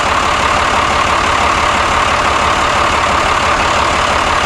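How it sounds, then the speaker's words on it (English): A Cummins 6BT diesel engine with a newly installed turbo idling steadily and loudly up close, with a constant low rumble and an airy whine from the spinning turbo. "Turbo spinning, plenty of pressure coming out, that's good"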